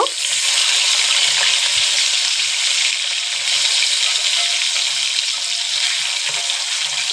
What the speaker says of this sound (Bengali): সব মাছ একসাথে দিয়ে দিলাম, মাছটা তাহলে ভাজা হোক।